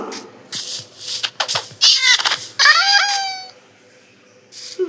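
A cat in the Minecraft video game gives several short, high meows in quick succession, loud and close, with brief gaps between calls.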